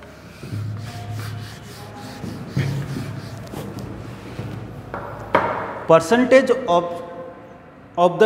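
Writing is rubbed off a classroom board in a series of soft, rhythmic wiping strokes, followed near the end by a teacher's voice speaking.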